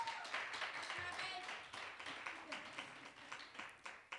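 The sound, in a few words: applause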